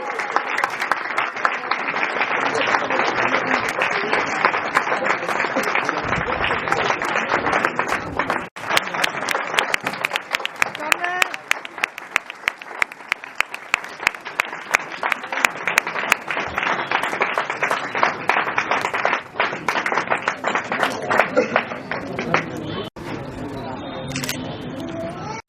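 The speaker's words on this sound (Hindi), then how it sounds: "तालियां रुकनी नहीं चाहिए भाई।" Applause rises from a crowded audience at an exam awareness programme held indoors, a long run of steady clapping with dense rapid claps throughout, under a voice heard over it now and then.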